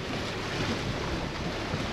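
Rough water sloshing and churning against a sailboat hull in short, closely spaced waves on Chesapeake Bay, mixed with steady wind rumble across the microphone, continuous and close with no talking.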